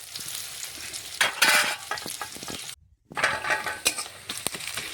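Chopped onions stirred and fried in white oil in a pan, a steady crackling sizzle broken by spoon scrapes, louder bursts of frying, and one brief gap of near silence partway through.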